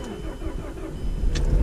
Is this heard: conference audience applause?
no